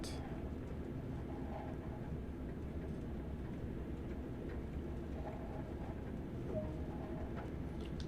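Low, steady rumble of an idling BR Class 08 shunting locomotive in Train Sim World on the Northern Trans-Pennine route, a constant diesel drone with faint clanks and a brief high tone, fairly quiet throughout.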